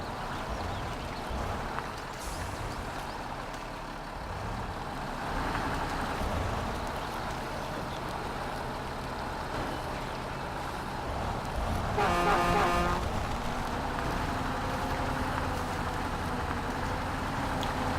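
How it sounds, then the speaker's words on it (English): A log truck's engine starts up in the video game Mudrunner, giving a low, steady rumble that holds over a noisy background, with a brief brighter horn-like burst partway through. "Get it in gear. Let's start the engine."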